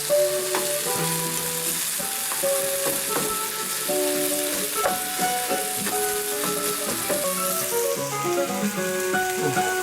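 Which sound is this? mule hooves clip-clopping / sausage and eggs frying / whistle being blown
sausage and eggs frying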